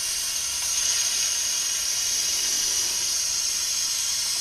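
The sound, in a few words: vacuum coolant refill tool sucking air out of cooling system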